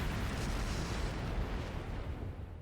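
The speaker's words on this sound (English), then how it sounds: "Flash grenade! Everyone down!" A flash grenade goes off in the Trails of Cold Steel III video game, a heavy, booming blast whose deep rumble fills the moment and then slowly tapers away.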